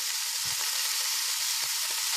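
Pork fat rendering over high heat for kuyrdak, a dense, steady sizzle close and loud, with a few low soft bumps from the pan beneath the constant hiss.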